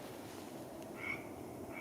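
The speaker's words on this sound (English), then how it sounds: "the Pacific tree frog. These guys are singing up a storm right now." Pacific tree frogs calling at a pond, faint and somewhat distant, with two short raspy croaks rising over a steady background hum of the chorus.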